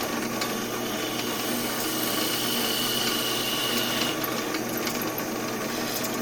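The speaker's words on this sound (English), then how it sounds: "I'm going to have to drill it again." Drill boring a hole through a wooden woodturning piece on the lathe, a steady mechanical whirring and grinding that runs continuously and fairly loud for the whole stretch, with no talking.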